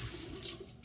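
Water runs steadily from a tap, a continuous close splashing hiss with no voices.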